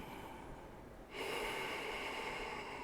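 Deep, steady breathing during a strong vinyasa yoga flow, a soft airy rush that swells louder partway through and holds as a sustained near exhale-like hiss, with no talking.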